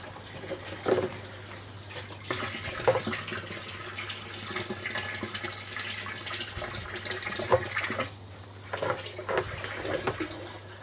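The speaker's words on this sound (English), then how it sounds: "it's also a really neat way to just keep that water moving and aerated" Water splashing and trickling through an aquarium filter sock system that keeps the tank water moving and aerated, an uneven close gurgle with small surges and no talking.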